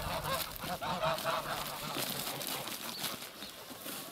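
Geese honk repeatedly in a busy, overlapping chorus close by, with rustling and scuffling noise beneath the calls.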